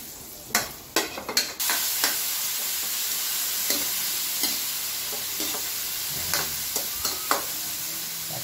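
Ginger and garlic sizzle in hot oil while being stir-fried, a steady frying hiss with a run of sharp clatters early on and scattered scraping taps throughout, no talking.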